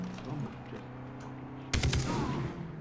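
Gunfire in the video game Far Cry 3: a sudden loud burst of several close shots erupts partway through over a steady game background hum, followed by continued rattling shots.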